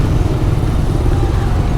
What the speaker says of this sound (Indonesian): Cukup menyenangkan motornya diajak selap-selip.